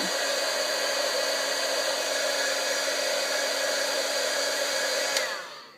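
A heat gun melts white embossing powder on vellum for a birthday card, blowing a steady loud whirring hiss at close range that runs unbroken for several seconds before switching off and winding down at the end.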